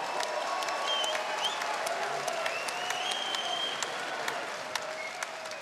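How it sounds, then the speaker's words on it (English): A fight crowd gives sustained, steady applause after a 62 kg bout, heard from a moderate distance as an even wash of clapping. "one more time, a round of applause for these two warriors"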